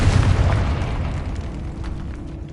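A single fiery explosion from the Confringo blasting spell in Hogwarts Legacy, a loud booming burst at the start that decays into a fading rumble.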